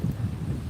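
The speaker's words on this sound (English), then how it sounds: "yes, Jing Miller, very windy here" Strong wind buffets the microphone on a beach at Gulf Shores, a steady rough low rumble with gusty pulses throughout and no voices.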